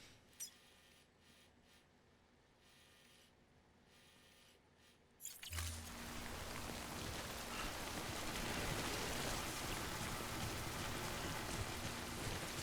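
Rain in the video game Death Stranding begins suddenly about halfway through after near silence, then holds as a steady, loud, close hiss of falling water with no voices.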